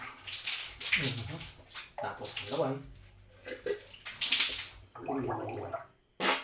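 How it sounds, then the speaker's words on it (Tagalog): Tap water running in a home bathroom while someone brushes their teeth, splashing in bursts between bouts of talking, with a dog whimpering faintly nearby. "Buka na akong tubig. Hugasan, ang toothbrush."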